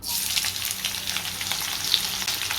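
Two chopped onions go into hot oil and fry with a steady, close sizzle and crackle that holds from start to finish, with no voices.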